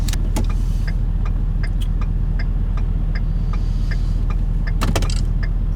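Ford 6.7 Powerstroke diesel truck cruising at quarter throttle, a steady low engine and road rumble running throughout with faint clicks and ticks from the cab.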